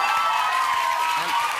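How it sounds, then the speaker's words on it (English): A studio audience on a television chat show claps and cheers as a dense, steady wash of sound that stays loud and close throughout, with voices mixed in. "now half the audience is clapping"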